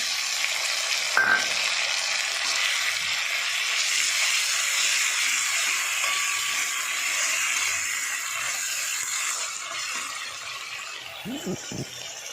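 Ground spice paste fries with onions in a hot pan, making a continuous loud sizzle and hiss, with a few utensil clatters near the end.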